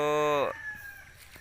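Chickens on a small backyard poultry farm in the provinces, a loud rooster crow rising and then trailing off, followed by quieter clucking and soft farmyard background.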